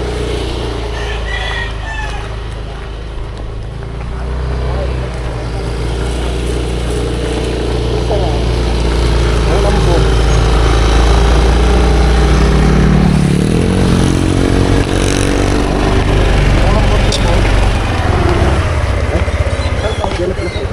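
A motorcycle is ridden in General Trias, Cavite, its engine giving a continuous low rumble that swells midway. A rooster seems to crow nearby, and people talk over the engine.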